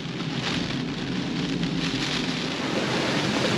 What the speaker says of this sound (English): About half an hour ago we got a squall come through like this one